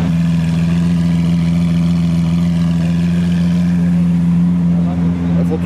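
Two Lamborghini Aventador SV cars, one a Novitec roadster and one a stock coupe, idle together with a deep, steady V12 rumble that stays loud and even throughout.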